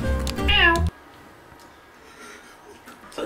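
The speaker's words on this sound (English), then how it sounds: "this cat's losing it." A cat lets out one loud, drawn-out meow with a rising-falling pitch in the opening second, then quiet room tone follows with faint rustles.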